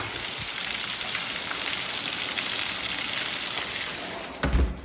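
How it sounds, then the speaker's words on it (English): Steady rain falls on a surface as a dense, continuous broadband patter, fairly loud and uniform throughout, with a brief heavier splash or thump near the end; no voices. "rain."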